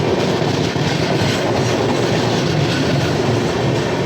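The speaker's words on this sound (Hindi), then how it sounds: "रांची नई दिल्ली राजधानी एक्सप्रेस।" Ranchi–New Delhi Rajdhani Express rolling past on the tracks, a loud, steady roar of rail noise with wheel clatter filling the whole stretch, heard close by.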